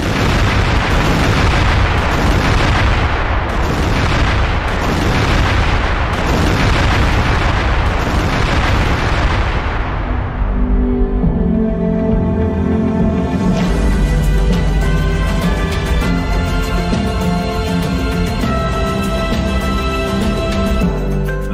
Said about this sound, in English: This is the moment that Israeli airstrikes hit.